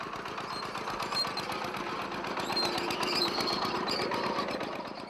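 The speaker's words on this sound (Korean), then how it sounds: "잠시 후 볏짚이 깔린 자리는 다시 트랙터로 다져졌다." A tractor compacts straw-covered soil, its engine giving a steady rattling, rumbling knock at moderate distance throughout, with faint higher squeaks over it and no voices.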